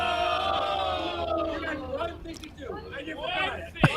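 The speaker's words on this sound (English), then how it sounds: "Man, the crowd is riled up." A riled-up hockey crowd roars and shouts in a dense, continuous wall of cheering and yelling, with individual voices rising above it and a sharp whoop near the end.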